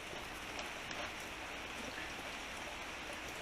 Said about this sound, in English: Right there, a bunch of drips coming down.